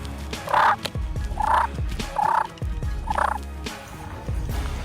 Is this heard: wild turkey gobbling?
yes